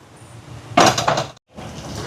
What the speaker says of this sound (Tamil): இனி மூடிட்டு அங்கால அடுப்பில் வச்சோம்னா இட்லி அவியட்டும்